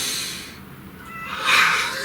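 A cat meows nearby in a quiet indoor room, a single drawn-out cry rising near the end of a short stretch, clear and fairly loud over a soft background hiss.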